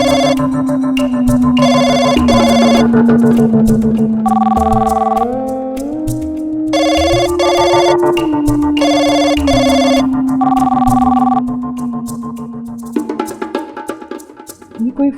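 A phone ringtone plays a repeating electronic melody loudly and continuously, with a voice briefly heard near the end.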